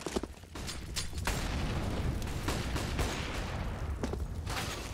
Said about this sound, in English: Lots of nades coming in here.